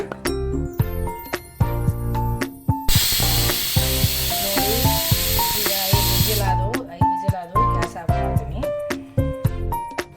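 A loud, steady hiss of steam from a pressure cooker whistle, cooking toor dal, bursts out for several seconds, then stops, with voices and other sounds before and after.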